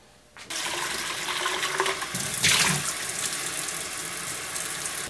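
Water runs steadily from a tap after a click, splashing and gushing over a reverse osmosis water filter being rinsed, with a brief louder surge midway, close by.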